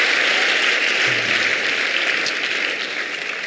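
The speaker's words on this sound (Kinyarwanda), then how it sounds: "Tukongeye kugukomera amashyi mu izina rya Yesu." A church congregation claps its hands in a dense, sustained round of applause that stays loud and even, easing slightly toward the end, with no talk over it.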